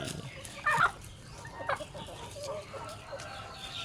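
Chickens at a Thai poultry farm with several pens of birds cluck in short, faint bursts, with one brief louder call near the start and scattered soft calls afterward.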